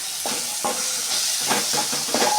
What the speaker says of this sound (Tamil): நல்லா வெங்காயம் தக்காளி நல்லா வதங்கிடுச்சு